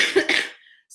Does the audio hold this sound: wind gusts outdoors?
no